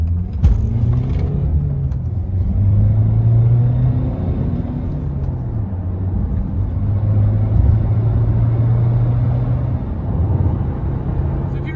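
A 2017 Honda CR-V SE Plus with the i-DTEC diesel engine accelerates through first, second and third gears on a wet road, with a steady engine drone that climbs in pitch and drops at each shift.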